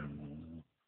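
A household dog lets out a brief, low growl, close and fairly quiet, that cuts off abruptly after well under a second.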